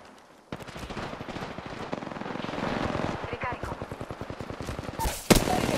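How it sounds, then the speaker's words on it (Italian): Rapid machine-gun fire in Apex Legends, a dense, continuous rattle of close shots lasting several seconds with a sharp louder blast near the end, under faint in-game voice chatter. "Mi stanno sparando."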